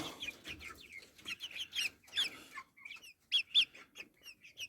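Hens cluck softly while chicks peep in quick high chirps, a busy, faint chatter of poultry close by.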